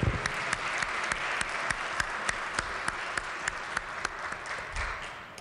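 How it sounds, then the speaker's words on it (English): An audience in a legislative chamber claps for Sarah Jones, a steady round of applause with sharp individual claps throughout before it tapers off. "So if we could give Sarah Jones a round of applause."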